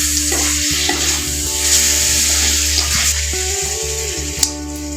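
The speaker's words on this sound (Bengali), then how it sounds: "টমেটোটা মশলার সঙ্গে খুব ভালোভাবে মিশিয়ে নেব।" Chopped tomato being stirred into spices frying in a pan for an olkopi (kohlrabi) dum curry, a steady close sizzle with soft scraping strokes of the spoon throughout, a sharper clink near the end.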